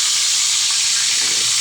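Food frying in hot oil gives off a steady, loud, close hiss that sizzles without a break, with no voices over it.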